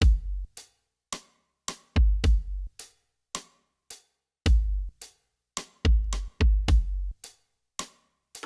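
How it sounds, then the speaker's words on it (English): Solo indie rock drum kit with a heavy, booming kick dominating, plus sparse snare and cymbal hits in a steady groove, loud and close with gaps of silence between hits. "The drums on their own sound like this."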